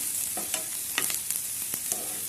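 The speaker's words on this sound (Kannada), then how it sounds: "ಸ್ವಲ್ಪ ಇದನ್ನು ಫ್ರೈ ಮಾಡ್ಕೋಬೇಕು ಫ್ರೆಂಡ್ಸ್" Chopped onion and grated ginger sizzle in a pan while a utensil stirs them, giving a soft, steady hiss broken by several sharp scraping strokes.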